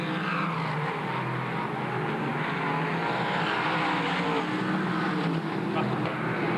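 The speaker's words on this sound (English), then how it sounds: "So car number 22, David Russell, is currently in third position" Modified race cars roar around the track at a 2002 Modified Masters event, a dense, continuous engine drone with passing swells, fairly loud throughout with no clear speech.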